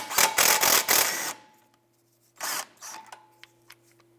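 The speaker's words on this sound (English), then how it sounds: "Using a 15mm socket, go ahead and loosen and remove the bolt." Power tool with a 15mm socket backing out a rear shock absorber bolt on a 2011-2019 Ford Fiesta, a loud burst of rattling whirs followed by a shorter second burst, close up, with no voices.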